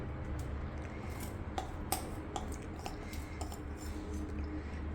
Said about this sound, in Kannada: ಎಲ್ಲ ಇದು ಟಿನ್ಗೆ ಹಾಕ್ಕೊಂಬಿಡೋಣ